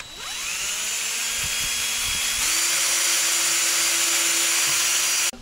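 A handheld power drill whines steadily at close range, its pitch rising as it bites through a wooden block, running continuously before cutting off abruptly.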